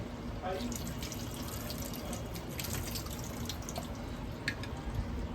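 Running water splashes and trickles continuously, a tap pouring over live crabs in a sink, with faint clatter and dripping throughout.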